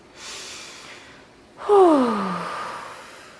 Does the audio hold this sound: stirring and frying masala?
no